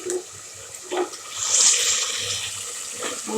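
Cut taro stolons get washed under a running tap, a steady gush of water close by with small splashes and handling sounds as the pieces are rinsed.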